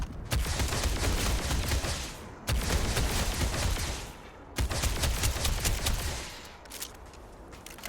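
Heavy sustained gunfire in Starfield: Shattered Space, with long loud bursts of rapid shots broken by two short gaps, the final stretch thinning out to scattered shots.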